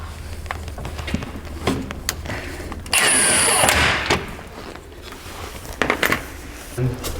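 Impact wrench run gently on exhaust clamp bolts during a Lykan Hypersport exhaust install, a short buzzing whir of about a second amid clanks and workshop noise, with people talking nearby.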